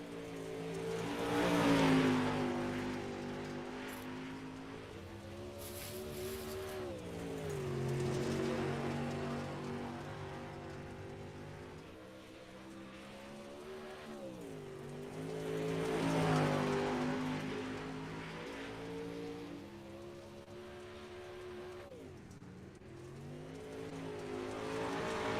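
Number 31 modified touring race car running timed laps in a racing video game, engine note rising and falling in repeated cycles as it accelerates and brakes through corners, heard faintly at a steady distance with no talk.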